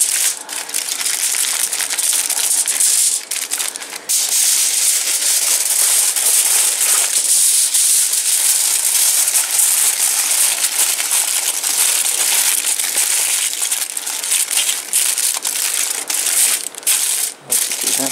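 Aluminium foil is folded and crumpled around a campfire dinner packet for a hobo meal, producing a continuous close crinkling and crackling rustle throughout with no voices.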